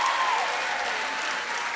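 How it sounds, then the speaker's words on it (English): A basketball crowd at a girls' Division 4 regional final applauds during a trophy presentation, sustained clapping and cheering filling the arena evenly, with a faint whistle-like tone early on. "the crowd should erupt here in a second once they show them the hardware"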